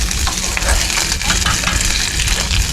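Pesto heats gently in a pan, giving a steady loud close sizzle and frying crackle with scraping stir sounds running throughout.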